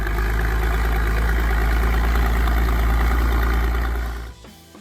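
A 1947-era Massey-Harris 44 farm tractor engine runs at a steady, loud, low throb with a constant rumble, then cuts off abruptly near the end.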